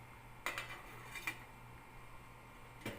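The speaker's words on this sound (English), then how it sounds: "Okay, cover the pan." A metal lid set onto a cooking pan, with a couple of light clinks followed by a final tap, fairly quiet over a low steady hum.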